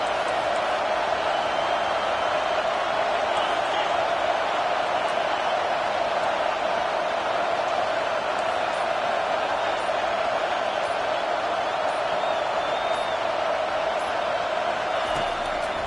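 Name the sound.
football stadium crowd cheering behind the defense on third down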